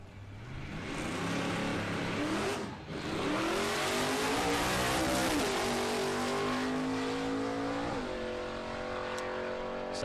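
An Aeroflow Outlaw nitro funny car launches at Palmyra Dragway with its tyres spinning, a loud roaring engine climbing in pitch through repeated throttle pumps as it accelerates away.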